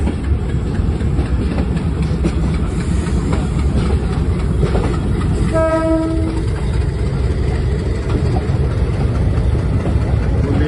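A train locomotive rolls steadily past a railway junction on the Khyber Mail route, its continuous rumble and rail noise filling the scene, with a brief horn blast sounding near the middle.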